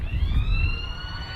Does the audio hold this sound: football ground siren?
yes